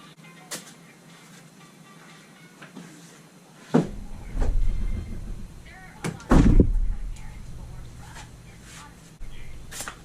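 Door of a 1997 Dodge 3500 truck being adjusted and shut, with a few metallic clunks and a couple of heavy thumps close by, against a dull background rumble.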